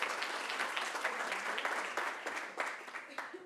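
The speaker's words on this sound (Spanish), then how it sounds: "Un aplauso." An audience at an economic seminar breaks into applause, a dense, sustained clatter of many hands clapping at moderate distance that holds throughout.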